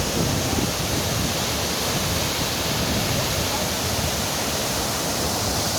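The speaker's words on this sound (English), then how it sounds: "the water is falling so furiously and so fast" Waterfall at Jahaz Banda in Kumrat valley, water falling furiously and fast, a loud, steady, close roar of rushing water filling the whole span without pause.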